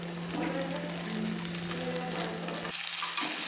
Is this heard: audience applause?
no